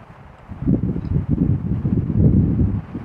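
Gusty wind buffets the microphone in low, rough surges that rise and fall, with no voices.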